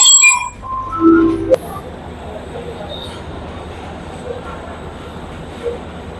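Sleeper train pulling into Da Nang railway station, a short metallic squeal and clank of wheels at first, then a steady low rumble and platform hiss.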